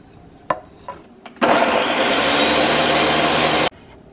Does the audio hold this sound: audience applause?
no